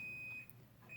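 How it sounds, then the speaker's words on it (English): A steady high electronic beep tone sounds repeatedly, pausing briefly mid-clip, over a quiet low background hum. "sorry for the beeping."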